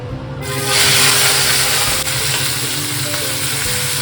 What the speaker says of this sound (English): now we will shallow fry the prawns